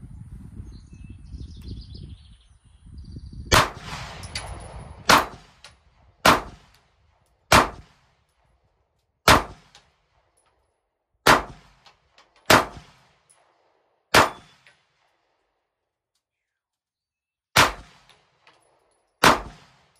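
A Canik pistol fitted with a new recoil spring fires about ten sharp, loud shots one at a time, irregularly spaced with brief silences between them, after a few seconds of low rustling at the start.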